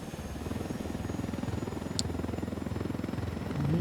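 A helicopter flies in the video game Ghost Recon Wildlands, its rotor beating in a steady, close, continuous chop that swells slightly toward the end.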